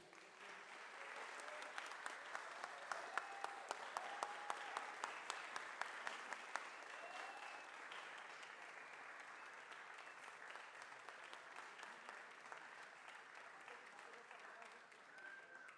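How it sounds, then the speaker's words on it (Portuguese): An audience at a formal ceremony honoring a former city councilman applauds warmly, with distinct claps early on settling into a steady, continuous wash of clapping. "Agora peço com uma calorosa salva de palmas o homenageado dessa noite, Benedito Faustino Taubaté Guimarães."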